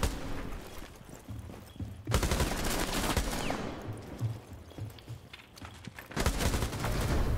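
A rifle fires in a video game in long sustained automatic bursts, loud and close. A brief pause splits the bursts before a final stretch of rapid shots.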